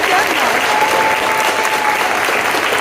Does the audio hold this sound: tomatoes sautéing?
no